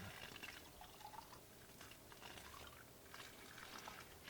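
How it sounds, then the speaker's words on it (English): Water runs into a storage container filling it up to the line, a faint, continuous trickling wash with soft splashing, heard close and alone. "turn the water back on, and fill it up to the line."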